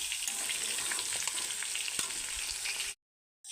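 Potato and onion-stalk vegetables stir-fry in a pan, a steady dense sizzle filling the whole span at close range before cutting off abruptly near the end, with no voices.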